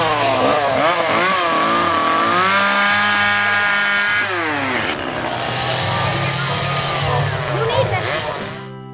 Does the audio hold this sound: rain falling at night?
no